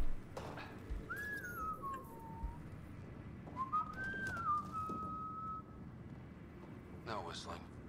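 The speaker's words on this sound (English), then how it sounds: "No whistling." A person whistles a pair of sliding, tuneful notes, each drawn out and rising then falling, against a low background hum, with brief clicks and faint voices around it.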